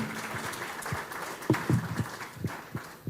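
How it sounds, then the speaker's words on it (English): Scattered applause from a conference audience at a social entrepreneurship event, uneven individual claps with louder bursts, moderately quiet. "Please, a round of applause."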